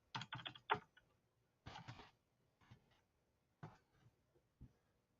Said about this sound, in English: I'm typing in Kickstarter